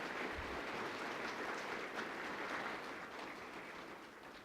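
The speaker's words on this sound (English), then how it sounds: "So a huge round of applause for our experts that spoke" An audience at a Healthy Heart Day event applauds the expert speakers with a steady, even wash of clapping that stays fairly far off and soft for several seconds, slowly easing toward the end.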